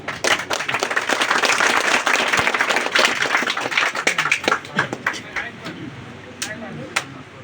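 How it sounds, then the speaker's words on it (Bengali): An audience at an office monthly workshop claps for the chief guest. Dense, energetic applause fills the room, then thins into scattered individual claps before fading out. "আমরা সকলে করতালি দিয়ে তাকে সম্মান জানাই"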